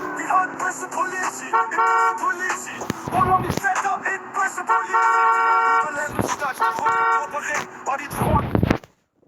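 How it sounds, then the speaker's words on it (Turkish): Repeated car horn toots blare over busy background music and engine noise in a video game, with brief breaks between honks before the sound cuts off. "Arkadaşlar korna sesine bakın. Bu nasıl korna sesi?"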